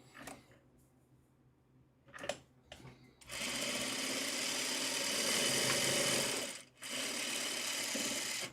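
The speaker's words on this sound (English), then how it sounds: "let me sew the rest of these" A sewing machine stitches fabric while a quilting or craft unit is assembled, starting with a few short bursts and then running in a loud, steady whir. It pauses briefly, then resumes its continuous run.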